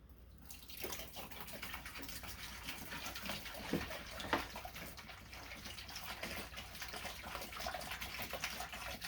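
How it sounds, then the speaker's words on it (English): Water pours steadily into a container while making JADAM wetting agent, a continuous rushing splash with a couple of louder surges, no talking. "Go ahead and just pour all the water in."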